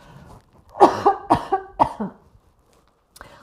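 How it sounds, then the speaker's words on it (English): Several dry coughs from a woman over 50 during a Pilates session in a quick cluster, close and fairly loud, followed by a short pause and one faint final cough. "I just have a little cough"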